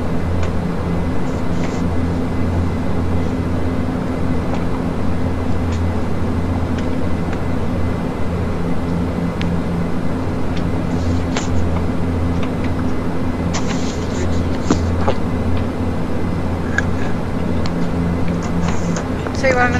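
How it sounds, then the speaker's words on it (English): Dash 8 Q400 turboprop engines in a flight simulator game: a loud, steady droning hum with constant tonal whine, unbroken for about twenty seconds, with faint clicks and occasional talk underneath. "I'm just going to turn these engines down a bit because I really like the sounds, but they're a little bit loud"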